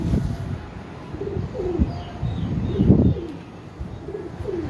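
Pigeon cooing from a rare breeder pigeon: low, rolling coos repeat in soft bursts across the clip, fairly close, with a few faint chirps in the background and no talk.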